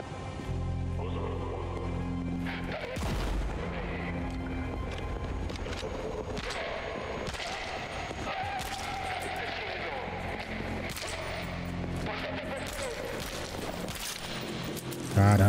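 Gunfire from a first-person shooter video game, Kvark, repeats in sharp bursts over steady game music and background noise, with a player talking throughout.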